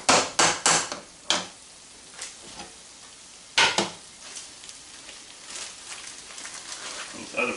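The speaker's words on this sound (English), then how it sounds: "I'm going to let that cook down a little bit more and then we'll pour our salsa in there." A filling for huevos rancheros cooks down in a frying pan before the salsa goes in. A soft, steady sizzle runs underneath sharp, close knocks of a utensil against the pan, clustered at the start and again midway.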